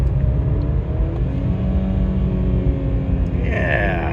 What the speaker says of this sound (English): Try to get it to downshift here. Go up to third. Get on a little bit, and then downshift.